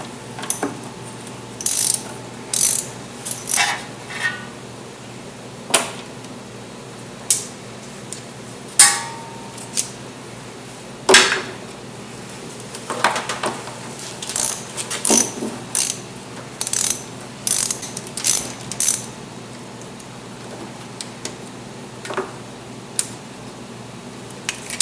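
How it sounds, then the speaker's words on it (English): Bursts of ratchet clicking from a 10mm socket loosening valve cover bolts on a BMW E36, quick ratcheting runs separated by pauses, close and clear with no talk. "Remove the bolts with the 10mm socket"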